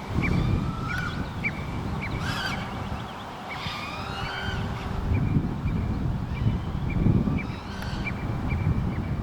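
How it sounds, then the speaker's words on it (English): Small birds peep and chirp outdoors, in scattered short calls from nearby trees over a constant low background hum with no talking. "what are these birds peeping over here about?"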